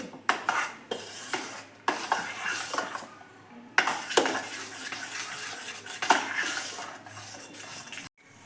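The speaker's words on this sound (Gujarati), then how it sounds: "એની અંદર એક ચમચી જેટલું પાણી નાખીને આપણે એને મિક્સ કરી લેશું" A spoon stirs idli batter thinned with a spoonful of water in a bowl, producing repeated rhythmic scraping and clinking strokes of metal against the bowl, close and clear with brief pauses between bursts.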